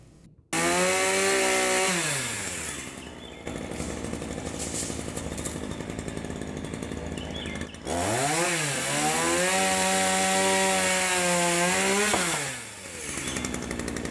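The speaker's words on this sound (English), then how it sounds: "Forget the skill saw. Here comes the chainsaw." A chainsaw roars loudly up close, its pitch rising and dropping as it bites into wood in two long cuts, with a brief idle between them.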